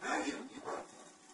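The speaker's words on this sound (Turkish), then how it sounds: "mesela köpek sesi geliyor ya" A dog barks twice in the video game Splinter Cell: Blacklist, fairly faint and slightly distant, with a short whimpering quality between the barks.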